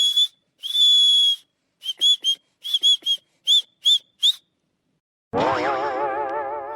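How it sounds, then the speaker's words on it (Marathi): A cartoon character in a Marathi comedy cartoon whistles loudly in a string of short and long piercing blasts, then a pause and a wobbling, springy boing-like sound rings out. "आता पाय मी कसं जोराने शिट्टी वाजवतो"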